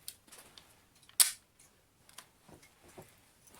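A magazine slides into a heavyweight spring-powered Y&P USP airsoft pistol with a blue slide, giving one sharp, loud click amid a few faint handling taps.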